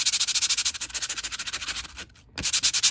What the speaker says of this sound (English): grab some sandpaper and just go over the edge